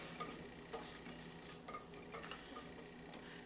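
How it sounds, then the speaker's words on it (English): Italian sausage sizzles faintly in a soup pot, a soft continuous crackle with occasional light clinks of stirring. "sizzling a little bit."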